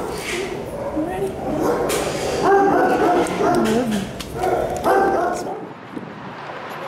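A dog at an animal shelter whines and gives short yips and barks in several bursts, close by, with people talking over and around the sounds.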